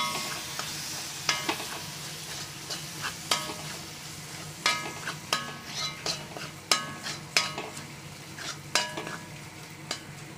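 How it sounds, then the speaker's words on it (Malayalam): Pav bhaji masala and vegetables frying in a pan, a steady sizzle with repeated spoon scrapes and clinks against the pan in a fairly regular stirring rhythm, close up and without talk. "ഇത് എത്ര നേരം വരെ ഇങ്ങനെ ഇളക്കണം? അതെന്താ പച്ചമണം മാറണ വരെ ഇളക്കണം."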